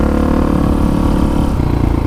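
A 1985 Honda XR350R motorcycle engine runs steadily while being ridden in third or fourth gear at 20 to 30 mph on desert trails, a loud, continuous drone close by with no voices.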